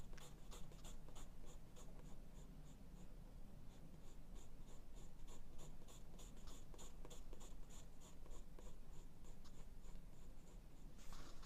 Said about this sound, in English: Just the sound of the paper on the pencil.